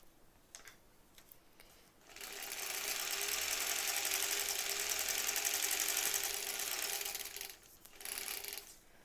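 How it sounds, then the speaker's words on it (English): A sewing machine runs a short burst of small reverse stitches while foundation paper piecing, a faint steady whirring hum for about five seconds, then a brief second burst after a pause. "And I'm going to do those little reverse stitches."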